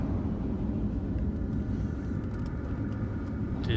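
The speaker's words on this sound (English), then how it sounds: "Gears turning." Low rumbling of heavy mechanism grinding in the game Journey, a continuous deep churn with faint scattered clicks above it, steady and alone.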